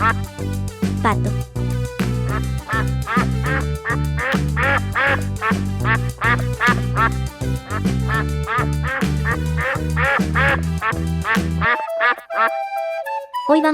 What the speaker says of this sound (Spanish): Hoy vamos a aprender cómo se escribe y hace el pato.